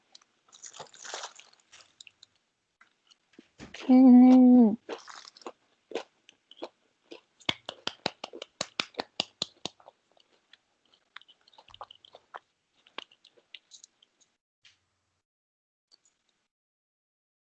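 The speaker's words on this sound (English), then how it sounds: "And I'm going to munch." Close, crisp crunching of vegetable tempura with a soy sauce dip: one loud bite followed by a run of sharp, rapid chewing crunches that slowly thin out, with a brief murmur at the end.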